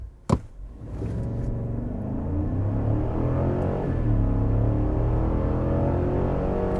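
A 2021 Cadillac Escalade launches under hard acceleration. A sharp click comes first, then a deep, steady engine rumble that swells and holds loud from inside the cabin, with no one speaking.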